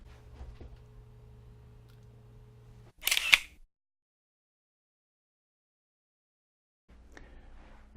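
A DSLR camera shutter fires once, a single quick close mechanical click-clack, with near silence around it while photographing artwork.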